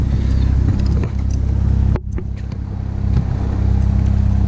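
A 2016 BMW X4 M40i engine idling and moving in reverse, a loud close low rumble that dips briefly midway before settling back to a steady hum.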